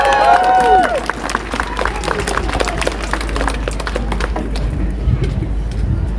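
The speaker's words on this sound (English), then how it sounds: "Another round of applause" An audience at a trans rights speaking event gives another round of applause: scattered hand claps under crowd hubbub, with a voice speaking at the start and the clapping thinning out toward the end.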